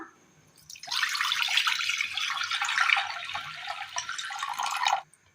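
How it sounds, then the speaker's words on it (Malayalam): Water pours into a pan set on a stove, a steady splashing stream starting after a quiet moment and running for about four seconds before cutting off. "ഇനി ഇതിലേക്ക് ഒരൽപ്പം വെള്ളം ഒഴിച്ചു കൊടുക്കാം."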